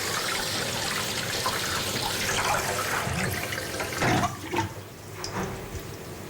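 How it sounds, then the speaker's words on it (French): Water runs from a tap as hands are rinsed under it, a steady close splashing hiss with brief louder gushes and splatters toward the end as the hands move through the stream. "Maintenant, vous pouvez vous rincer les mains."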